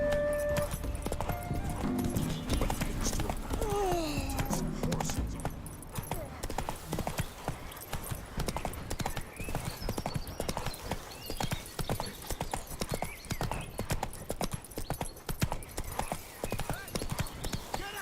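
Roach, a horse in The Witcher 3, gallops with fast, rhythmic hoofbeats thudding close and steady across the whole stretch, joined early by a brief whinny and some background game sounds.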